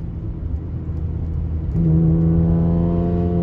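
Infiniti Q60 with a modified exhaust, the engine rumbling low and then stepping up to a louder, higher steady drone midway as the revs rise, heard from inside the car.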